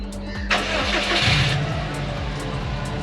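A car with a manual shifter starts by remote start. The engine cranks loudly, catches and settles into a steady, rhythmic idle close by.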